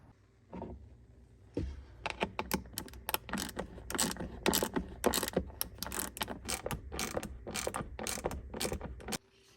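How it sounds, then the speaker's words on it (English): A ratchet tightens bolts on a DIY fridge slider platform, giving rapid runs of clicking strokes with short pauses between them, close and crisp, with no talk. "let's get this thing bolted down"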